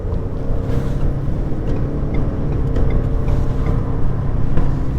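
A 2023 Ford F150 XLT in sport mode drones steadily with engine revs and road rumble at highway speed, a continuous broadband roar heard from inside the cab with no talking.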